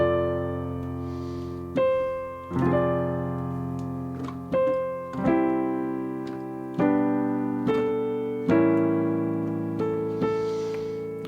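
Solo piano plays the third line of a song with melody and chords, a slow series of struck chords every second or two that ring and decay, close and clear with no talking.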